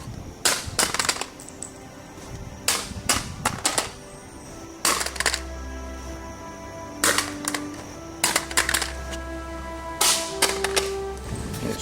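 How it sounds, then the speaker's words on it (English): A loaded 30-round Lancer rifle magazine hits the ground repeatedly after drops from five feet, giving sharp, loud clattering impacts in separate bursts with quiet gaps between them. "We're going to do the drop test of 5 feet with a loaded magazine with 30 rounds."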